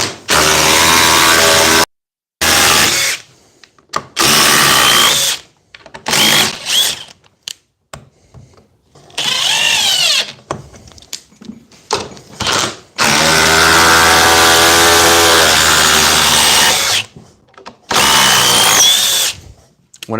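A DeWalt cordless power drill runs in loud bursts, triggered on and off repeatedly with brief pauses and changes in speed, up close and alone.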